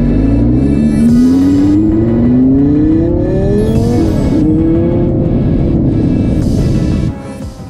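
Lamborghini sports car engine revving loudly and close, its pitch sweeping up and down through several rising surges before dropping off at the end, with no talk.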